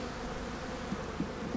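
Honeybees drone steadily around an opened all-medium beehive during an inspection, a continuous close buzzing hum with faint individual wingbeats rising now and then.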